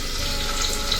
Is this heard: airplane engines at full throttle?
no